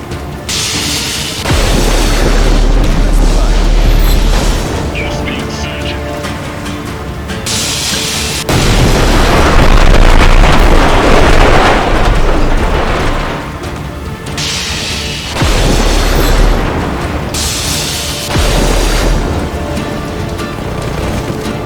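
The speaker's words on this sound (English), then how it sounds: "Who's shooting me with a flak cannon?" Flak cannon fire and explosions in Just Cause 3 come as heavy, repeated booming blasts with deep low rumble, loud and sustained across several bursts and pauses.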